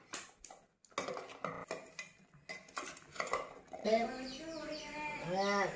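A spoon clinks and scrapes against a bowl while fresh mango pickle is mixed with coconut oil, in irregular taps and stirs, with birds chirping in the background.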